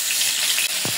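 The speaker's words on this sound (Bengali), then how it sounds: "তেল গরম হয়েছে, মাছ দিয়ে দেব।" Turmeric-rubbed pieces of large fish hit hot oil and give a loud, bright sizzle that fills a short moment, with a faint low bump near the end.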